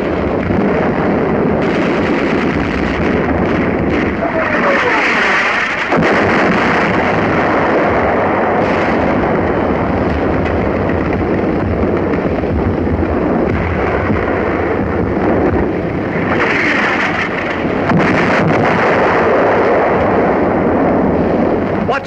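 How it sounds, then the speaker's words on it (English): Artillery fire thunders across a North African battlefield in repeated heavy blasts and rumbling bursts, dense and continuous over roaring wind noise, with no voices. "artillery begins to find the range."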